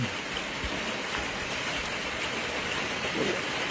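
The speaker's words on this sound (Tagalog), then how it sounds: "Umuulan mga bay, umuulan." Steady rain hisses and patters on a surface, a continuous close wash of noise with no voices.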